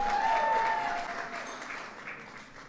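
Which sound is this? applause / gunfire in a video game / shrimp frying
applause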